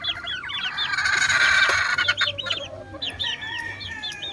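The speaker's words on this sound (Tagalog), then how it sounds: "Nabili mo yung mga anak nito, mga sisiw." Backyard chickens and young chicks clucking and calling in a steady, busy chorus of short repeated notes, fairly close, with a brief burst of louder squawking near the start.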